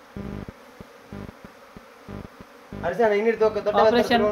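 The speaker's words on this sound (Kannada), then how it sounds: "ಜೇನುಗೂಡಿನೊಳಗಡೆ ಹಾಕಿ ಪುನಃ ಹೊರಗಡೆ ಜೇನು ಎಲ್ಲ ಹೋಗಿ ಪುನಃ ಮೊದಲಿನ ಸ್ಥಳಕ್ಕೆ ಹೋಗಿ ಕೂತ್ಕೊಂಡು" A swarm of honeybees buzzing around a hive at a house in Venur, heard as short, close, pulsing drones that come in bursts, followed by people talking over continued buzzing.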